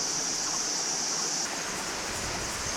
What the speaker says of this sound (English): The stream above the falls.